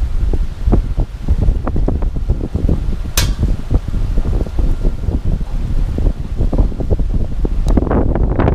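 Strong wind blowing and buffeting the microphone on a morning outdoors by a camp stove grill, a loud continuous low rumble with gusty bursts.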